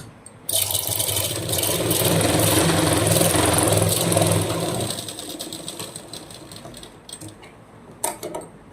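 An electric sewing machine stitches a blouse with a steady, close mechanical whir that holds for several seconds, then slows and trails off into lighter clicks and handling noises.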